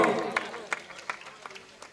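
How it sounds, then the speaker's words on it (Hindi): Brief scattered hand clapping at a temple installation ceremony, a few sharp claps spaced irregularly under and after voices, fairly close but not a full crowd ovation. "तालियां बजाई दी भाई।"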